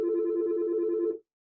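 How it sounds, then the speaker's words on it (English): A single telephone ring sounds clearly for just over a second, a steady electronic tone that cuts off abruptly into silence. "Excuse the phone ringing."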